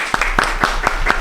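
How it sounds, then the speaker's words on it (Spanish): At a radio program, a small group gives a guest a short burst of applause, about half a dozen sharp, evenly spaced claps under a low steady hum. "Voy a pedir un fuerte aplauso para Marcelo Goyeneche,"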